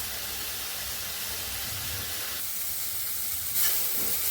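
Homemade garam masala dry roasting in a pan gives a dense, continuous hiss, close and fairly loud, with a faint scrape near the end and no talking.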